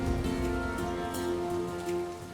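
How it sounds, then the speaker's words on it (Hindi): Heavy rain pours steadily on surfaces in a Ramayan drama scene, a dense, continuous hiss and patter that fills the whole stretch with no voices. "इस वर्षा में आगे बढ़ना"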